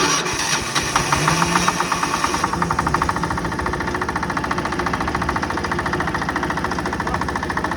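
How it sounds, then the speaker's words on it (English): A heavy diesel engine runs with a fast, steady knocking rhythm, loud and close, like a tractor idling and chugging. "expecting that to sound like a tractor. It does."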